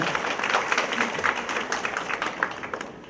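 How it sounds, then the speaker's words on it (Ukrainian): Audience applause at a nursing forum in Lviv, a steady wash of many hands clapping for about three seconds, fairly loud and dense, fading slightly at the end with no clear talk over it. "Підтримайте мене оплесками"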